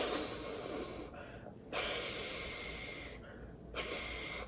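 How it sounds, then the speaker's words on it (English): A person blows their nose in two long, forceful, hissing blasts, each about a second long, with a short quiet gap between them and a quick breath before the second. "I have to blow my nose."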